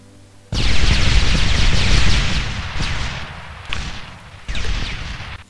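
Loud, close video game explosions: booming blasts with crackling debris, one long rumbling burst followed by a few shorter explosions; no talking.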